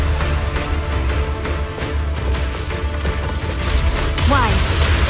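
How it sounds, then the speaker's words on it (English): Explosions and combat effects roar in the video game Zenless Zone Zero, a dense, loud, continuous barrage of booms and crashes with a brief whooshing sweep near the end. "Explosions."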